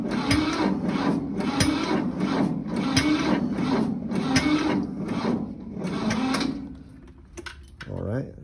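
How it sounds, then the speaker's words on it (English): An equipment engine cranks off a NOCO Boost battery pack in a cold start, with a rhythmic chugging starter churn of about eight strokes at close range, then it stops and a brief clunk follows. "And we'll give it just a little bit of fuel and crank."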